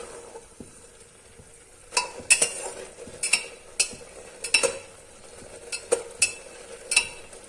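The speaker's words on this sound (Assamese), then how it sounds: "একেবাৰে শুকান নোহোৱালৈকে আমি লাৰি থাকিব লাগিব।" Papaya halwa fries in a pan as it is stirred and dries out, giving a run of about a dozen quick scraping, clinking strokes over a faint sizzle.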